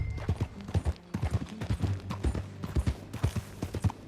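Horse hooves clip-clop in a steady trotting rhythm in Red Dead Redemption 2, close and prominent, with faint tack jingle and no talk over it.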